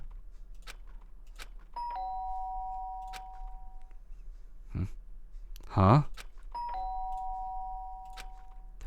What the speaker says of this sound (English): The sharp sound of the doorbell pierced my sleep haze and pulled me back to the real world.